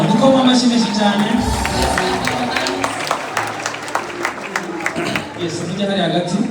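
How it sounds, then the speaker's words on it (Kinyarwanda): An audience applauds in a steady wash of clapping through a full room, with a voice talking over it and louder bursts of claps near the end. "Wow, dukoma amashyi menshi cyane."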